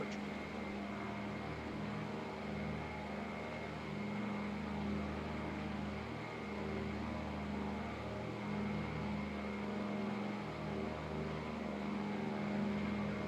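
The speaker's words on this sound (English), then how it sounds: "The DC-3 is a very, very nice plane." A 2017 Breitling DC-3 propeller airliner drones steadily in flight, its piston engines giving a constant, even hum with a low throb and no break.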